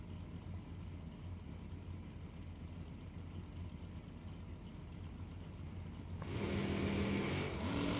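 Drag race cars at a strip, a 1992 Pontiac Firebird and a Mustang, rumble steadily at a distance before engines swell louder and rev hard near the end.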